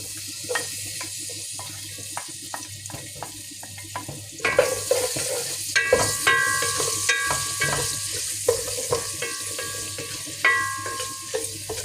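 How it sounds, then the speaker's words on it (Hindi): Cloves, star anise, raisins and coconut sauté in a pan with a soft sizzle, while a spoon taps, clinks and scrapes against the metal repeatedly, growing busier and louder partway through. "अब इसको थोड़ा सा सौते करते हैं।"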